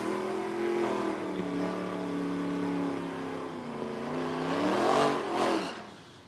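Late-model Ford Mustang with a 5.0 V8 on a cold start, a loud, rowdy low engine drone that climbs in pitch and swells in two revving surges near the end, close and prominent.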